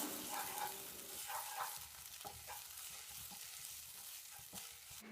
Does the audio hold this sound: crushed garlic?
yes